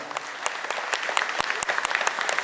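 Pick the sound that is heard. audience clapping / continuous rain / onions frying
audience clapping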